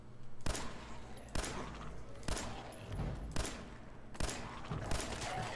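Repeated bursts of gunfire in Fallout 4 at the Super Duper Mart: five or six loud, sharp shots spaced roughly a second apart, each with a short ringing tail over a steady low rumble.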